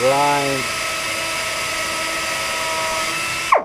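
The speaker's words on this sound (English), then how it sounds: "grind along the crack till you get down to the fiberglass." Angle grinder cutting along a crack in a fiberglass boat transom, a loud steady whine that holds for several seconds, spins up at the start and changes pitch near the end, with no talk over it.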